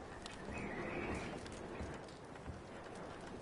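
Horses in the open-world game Red Dead Redemption 2 are heard as a faint, busy mix of hoof clops, snorting and a brief whinny under low ambient game sound.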